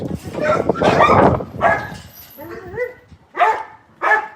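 Several dogs bark in loud, irregular bursts close by, with a few separate yips toward the end.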